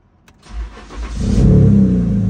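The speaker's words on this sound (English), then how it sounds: "we're gonna turn on the car, but we're gonna allow the car to idle out for a few minutes" A BMW car engine cranks and fires, rising to a strong, steady idle rumble that fills the rest of the moment, close and loud with no talking.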